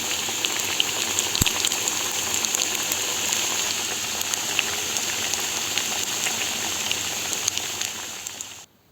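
Potato and bulgur köfte frying in well-heated oil, a continuous dense crackle and sizzle with scattered sharper pops, steady and close, trailing off abruptly at the end with no talking.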